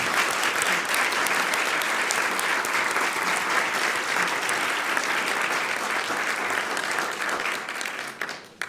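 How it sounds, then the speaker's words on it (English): Sustained audience applause at a National Press Club luncheon event, steady dense clapping from a seated crowd that holds evenly, then thins and tapers near the end. "How about a round of applause?"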